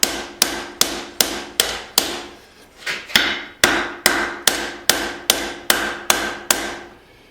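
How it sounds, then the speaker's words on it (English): Rhythmic hammer blows on hot steel while forging an integral bolster knife, about fifteen sharp ringing strikes at a steady pace, close and loud, with a brief pause midway and no talking. "I'm going to hammer this back into itself."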